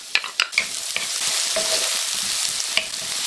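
Red onion hits hot cooking oil in a pan, setting off a steady sizzle and fry with a few stirring clatters at the start, and no talking.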